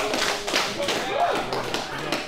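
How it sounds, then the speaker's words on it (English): A single sharp open-hand slap to the face lands in a slap fighting match, a quick smack amid crowd noise and an excited commentator. "Black Larry with a fat slap."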